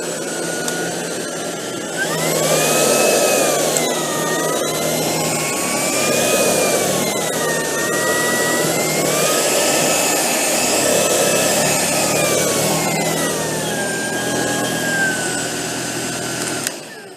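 A Tineco Pure One S15 cordless vacuum cleaner in auto power mode runs on medium pile carpet, a loud continuous whine with a motor pitch that rises and dips as it works, stopping near the end.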